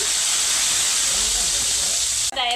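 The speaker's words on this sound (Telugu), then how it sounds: "కూరగాయలు వేస్తున్నాను చిన్న ఉల్లిపాయ వేసాను" Vegetables, fenugreek powder and a small chopped onion hit hot oil in a pan for a Telugu-style dabba fry, giving a loud, steady sizzling hiss throughout that cuts off briefly near the end before a short voice sounds.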